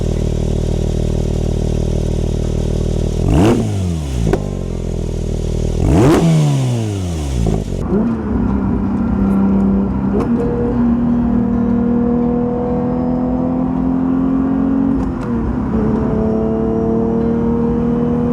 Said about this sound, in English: your center dual exhaust pipes, which sound fantastic